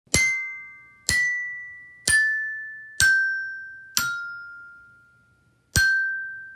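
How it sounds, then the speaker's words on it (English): Six bright metallic bar tones from a toy xylophone ring out one at a time, each clear and sustained, forming a slow simple tune with a gap before the last note. "Shiny, childlike glockenspiel sound."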